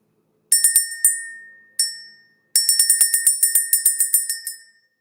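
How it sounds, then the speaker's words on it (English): A small bell rung in bright, ringing strikes: a few single dings with pauses, then a rapid run of about a dozen chimes, each decaying quickly, clear and close. "Let's go ahead and ring this bell."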